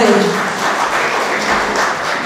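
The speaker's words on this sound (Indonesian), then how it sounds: "tepuk tangan untuk Pak Faisal Basri" Audience applause breaks out at a televised Indonesian talk event honoring economist Faisal Basri, a steady broadband clatter of many hands filling the short moment, with a brief trace of a voice at the very start.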